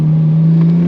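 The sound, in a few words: Nissan Skyline R33 RB25 engine revving with HKS air intake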